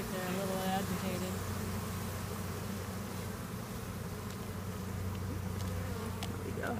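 Agitated honeybees swarm and buzz loudly at an opened hive on a farm, a dense steady drone filling the whole stretch with no pauses.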